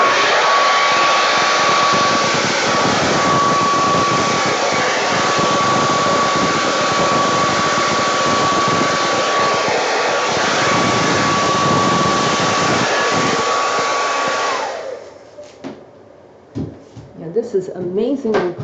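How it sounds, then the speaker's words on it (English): A blower, like a hair dryer, runs steadily to dry a layer of a landscape pour painting, a loud continuous whoosh with a thin tone for about fifteen seconds before cutting off, a voice speaking alongside. "And then come back in with the blower"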